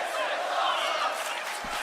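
A wrestling arena crowd in the WWE 2K26 video game roars and cheers as a steady, loud wash of noise that fills the whole short moment.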